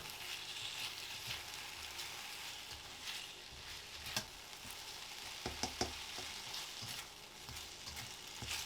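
Kung Pao chicken sizzles and fries steadily in a hot pan while sauce is stirred through, with a continuous loud hiss broken by a few sharp scrapes and clacks of the utensil, close up.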